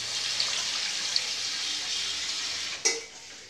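Water poured into a mutton bone curry seasoned with turmeric powder gives a steady close hiss and bubbling, with a brief clatter near the end before it quietens.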